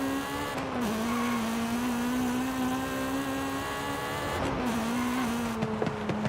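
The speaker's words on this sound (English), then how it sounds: "And the sound of the exhaust changes as well." A Honda engine running at high revs in its VTEC range in Forza Horizon 5, a steady, loud, droning exhaust note that holds one pitch with a brief dip and a small rise near the end.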